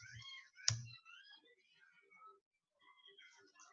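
A single sharp mouse click sounds in drawing software, followed by soft speech over quiet background.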